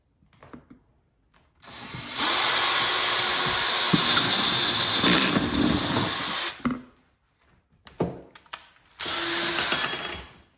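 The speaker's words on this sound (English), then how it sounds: "I'm just going to drill right into it." A power drill whirs loudly for several seconds drilling into a mushroom growing chamber, stops, then gives a few short bursts and another steady run, close by with no talking.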